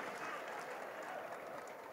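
Audience applause for Jason at an América de Cali squad presentation, a soft, fairly distant continuous patter of clapping from a crowd.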